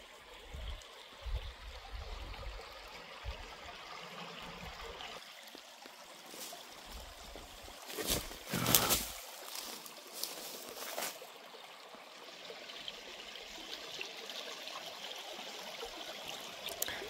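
A small woodland creek flows and trickles steadily, a soft continuous wash of water with a few louder splashing moments midway, heard alone without talk.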